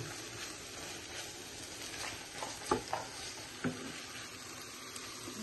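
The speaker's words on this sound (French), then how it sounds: "Voilà, on va bien mélanger comme ça." Vegetables and seafood with soy sauce are stirred in a pan: faint scraping and a couple of sharp utensil clicks over a low, soft sizzle. No one speaks.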